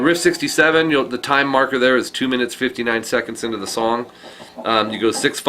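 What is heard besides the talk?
No everyday noises stand out.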